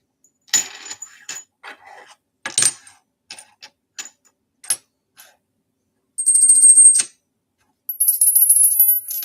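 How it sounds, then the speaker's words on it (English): Small angel bells are handled and tapped, giving a string of brief metallic clicks and clinks before two sustained high bright rings near the end, close and alone. "And then I got my little angel bells back here."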